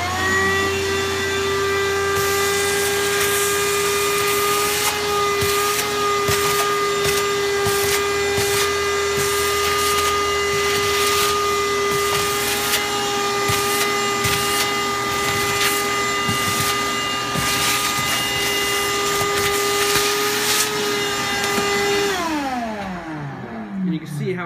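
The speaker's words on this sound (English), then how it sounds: "Let me go ahead and suck it up with the vacuum cleaner." A vacuum cleaner runs with a steady high-pitched whine and scraping, rattling bits being sucked up, then the motor winds down at the end.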